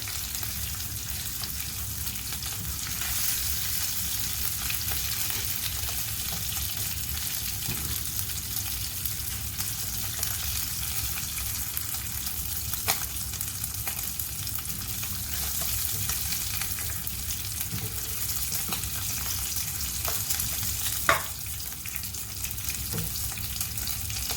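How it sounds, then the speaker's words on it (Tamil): Kingfish frying in oil in a nonstick frying pan, a steady fairly quiet sizzle with a few small pops and crackles throughout, no talking. "நமக்கு நான்ஸ்டிக் ஃப்ரை பேனில் நம்ம ஃப்ரை பண்ணுறதுல நமக்கு மீன் உடையாமல் நம்ம எடுக்கிறதுக்கு ஒரு வாய்ப்புகள் இருக்கிறது"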